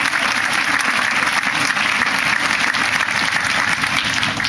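A large crowd applauds at a Barack Obama campaign rally in Urbandale, a loud, dense, unbroken roar of clapping that holds steady for the whole stretch.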